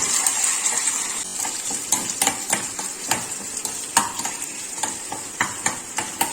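Curry leaves and chopped onion sizzling in a pan for a simple curry, a bright steady frying hiss with stirring scrapes and light clinks of a spoon.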